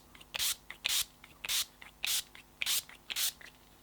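An Urban Decay and Mecca All Nighter setting spray in the Summer Solstice scent mists onto a face in six close, crisp pumps. Each hissing burst is separated by brief quiet.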